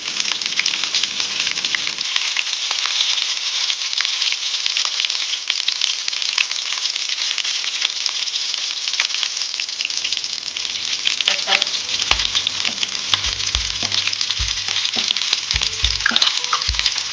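Cumin seeds fry in hot oil with a continuous bright, close sizzle and fine crackle, and soft pan knocks and stirring scrapes join in toward the end.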